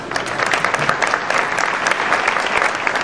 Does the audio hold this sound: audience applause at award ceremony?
yes